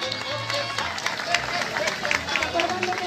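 Parade crowd applauding civil protection crew and firefighters passing in a street procession in Bahía de Banderas, Nayarit, scattered clapping mixed with crowd noise and faint voices, steady and somewhat distant.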